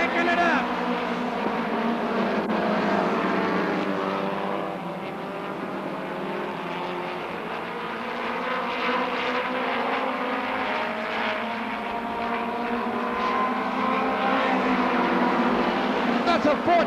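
Midget race cars rev on the track at Oxford, a loud, continuous engine drone that swells and fades as they circle, with an announcer talking over it.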